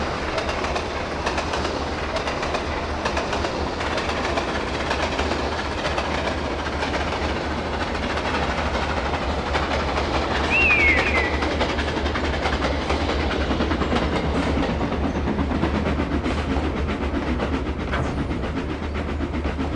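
A fast-moving locomotive runs over curved track, a steady dense rumble with rhythmic clickety-clack of wheels on rail joints and a brief faint wheel squeal partway through.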